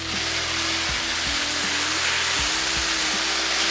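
Butter and potatoes sizzle on a Blackstone flat-top griddle, a steady close hiss of frying with a low tonal hum underneath and a few faint thumps from moving the potatoes.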